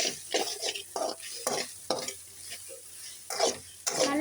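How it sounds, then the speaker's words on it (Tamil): Capsicum, onion and spices being sautéed in a pan: repeated spatula stirring strokes scrape and swish through a soft sizzle, close and fairly loud, in an irregular rhythm with no talking. "இப்போ வந்து நம்ம வந்து இதை நல்லா வதக்கிக்கலாம்."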